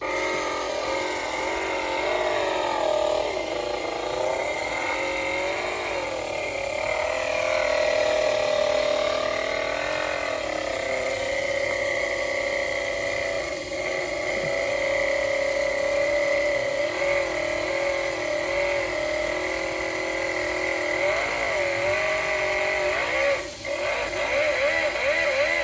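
A small model car engine runs continuously, giving a steady mechanical whirring hum with a faint ratcheting texture at a constant level throughout, with no talking.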